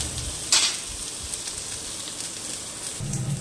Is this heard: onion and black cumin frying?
yes